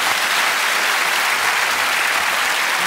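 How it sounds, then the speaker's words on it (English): A studio audience at a science demonstration gives a round of applause, dense, loud, continuous clapping with no voices over it. "I will have a round of applause for that."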